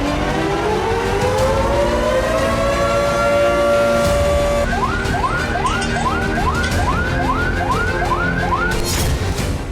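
A loud air raid warning siren in Ukraine wails, rising slowly and holding a steady tone, then switches to a rapid repeating whoop pattern, continuous and close.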